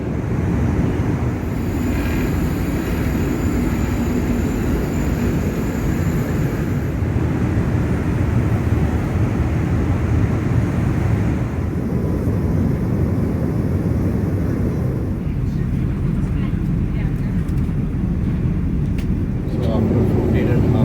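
Steady broadband roar inside an Emirates A380 airliner cabin during landing at San Francisco, loud and continuous with a low rumble throughout and a brief shift near the end.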